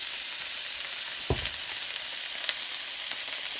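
Prime rib steak and peppers sizzle steadily in a hot pan during a stir-fry, with a constant close crackle and one brief scrape or stir partway through.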